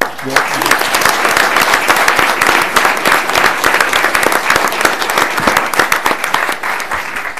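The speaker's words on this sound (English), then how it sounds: "how about giving everybody a round of applause?" Audience at a city council meeting marking Earth Day claps loudly and steadily for several seconds, a dense, continuous round of applause.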